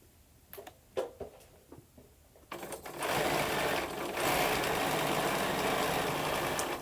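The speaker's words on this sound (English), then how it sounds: "So I'm just going to sew right up to my stylus" A sewing machine stitching quilt fabric, starting after a few clicks and handling noises and then running steadily and loudly as a close, continuous whirring hum, with no talk.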